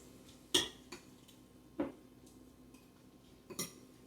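A spoon clinks against a bowl while coleslaw is stirred, a few sharp, scattered taps over a quiet background.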